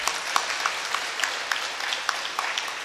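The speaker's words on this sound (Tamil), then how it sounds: "உண்மையாக ஒரு நல்ல கைதட்டு அவங்களுக்கு கொடுக்கணும் நீங்கள் எல்லாருமா." Applause from an audience at a World Mental Health Day ceremony, steady crowd clapping throughout with a dense patter of hands at moderate level, no voices over it.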